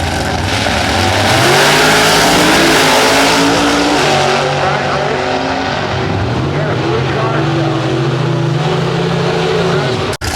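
A Chevy Lumina drag car on the track at the 2007 IHRA Presidents Cup Nationals roars loudly and continuously. Crowd and track noise fill the background, with an announcer-like voice faintly mixed in.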